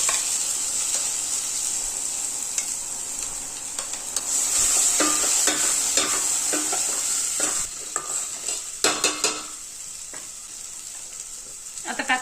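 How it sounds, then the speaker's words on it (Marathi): Ground masala paste sizzling and frying in a mustard-seed, cumin, asafoetida and red chilli tempering, a loud steady hiss stirred continuously, with scraping clatter toward the end. "फोडणी छान झाली की आपण केलेलं वाटण टाकून घ्यायचंय ते."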